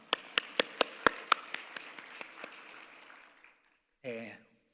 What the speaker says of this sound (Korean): 주님께 영광의 박수를 드립니다.